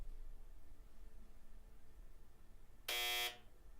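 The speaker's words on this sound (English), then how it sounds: "that is Rambo on the buzzer" Quiz game buzzer during an online game's anniversary livestream event, a single loud harsh electronic buzz lasting about half a second near the end, after a stretch of quiet background hiss.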